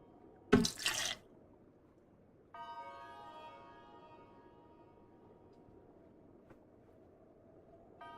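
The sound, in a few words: water running from a tap for a drink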